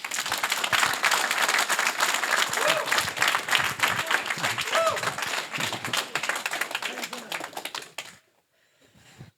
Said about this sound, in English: A warm applause for Will Happer.